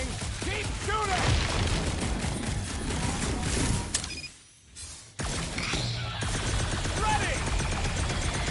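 Gunfire and combat in Marvel's Guardians of the Galaxy video game: dense, continuous blasts and impacts under character voices and music, with a brief lull in the middle.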